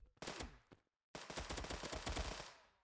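A P90 submachine gun fires in the mobile FPS game Fire Strike, with a short burst, a brief gap, then a longer rapid stream of shots, loud and close with no talk.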